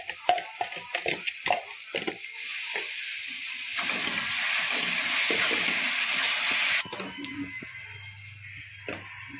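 Chopped tomatoes and green chillies are sautéed in a pan, a few sharp spatula taps and scrapes followed by a rising, steady sizzle that stops abruptly, then more scattered clinks, close up.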